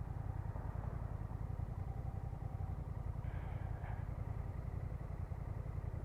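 A 2024 Honda Rebel 1100 motorcycle being ridden, its low engine throb droning steadily and continuously with rushing wind noise, moderately close and without speech.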